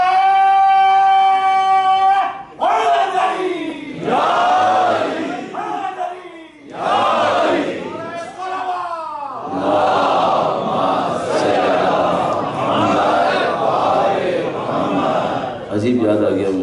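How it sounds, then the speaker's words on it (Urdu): A large crowd at a Muharram religious gathering shouts a slogan in loud unison bursts that echo off the hall walls. One sustained voice calls out first, then the crowd answers in repeated roars. "جب نعرہ لگاؤ نا اور دیواروں سے ٹکرا کر ایکو نعرے کی آئے"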